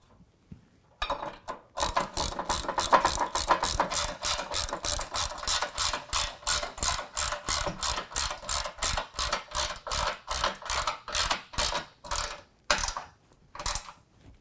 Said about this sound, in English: we're tightening this hardware down with a 9/16